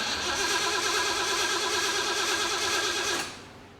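A supercharged Jeep engine cranking after being hotwired, a fast whirring starter churn held steadily for about three seconds, then cutting off without catching.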